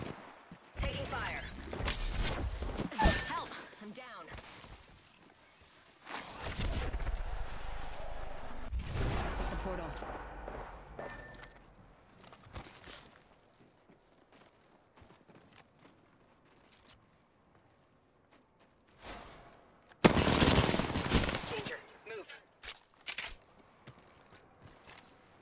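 Gunfire in the video game Apex Legends comes in several loud, dense bursts of rapid shots spread across the clip, with quieter stretches between them.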